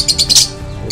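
A lovebird, green with yellow and orange gradation and a red beak, gives a quick series of loud, high chirps close by with no voices.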